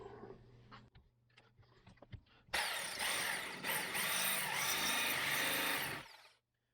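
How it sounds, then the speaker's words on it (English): A jigsaw cutting steel diamond plate starts abruptly after a few quiet mechanical clicks and taps, then runs loud and harsh for about three and a half seconds before stopping. "so let's try the old jigsaw"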